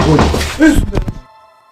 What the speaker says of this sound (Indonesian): Kapı oynuyor.